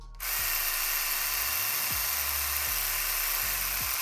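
A Philips Beauty set 9000 epilator runs at its maximum speed, a steady high-pitched electric whir that starts abruptly and holds loud and close, with faint low clicks beneath.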